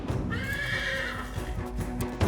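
Rodeo horse at a cowboy competition gives a loud, drawn-out whinny that rises and falls, with hoof clip-clop and arena bustle underneath throughout.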